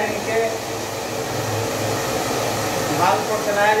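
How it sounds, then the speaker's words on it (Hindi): A hair dryer blows steadily on a man's freshly cut wet hair at a barbershop, a close, continuous whirring rush of air with slight shifts as it moves around the head. "बाल को चलाया जा रहा है ताकि इनका बाल जो है भीगा हुआ था बाल को अच्छे से सुखा देंगे।"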